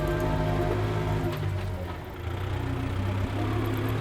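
A Kubota MU5502 tractor carrying a water tank runs along a road, its engine giving a steady, loud low rumble throughout with a slight dip midway, and no talking.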